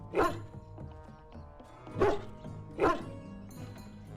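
A dog in the game Dragon Age: Origins barks three times, loud and close, the barks spaced about a second apart over a low background hum.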